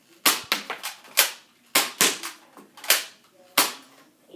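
Foam darts fire from a Nerf blaster in a run of sharp, close pops, about a dozen shots at irregular intervals, each a quick snap with a short decay and no talking.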